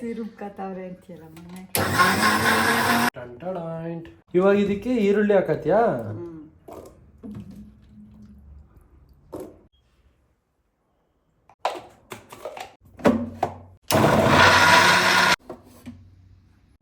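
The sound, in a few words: mixer grinder grinding garlic, ginger and onion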